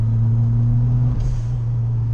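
A Ford Sierra Series 1 RS Turbo holds a steady, low engine drone from inside the cabin while driving on a country road, with a brief shift in tone partway through.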